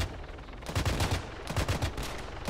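Rapid bursts of automatic gunfire from the video game Arma 3 crack loudly and close, with several tight volleys running back to back and no talking.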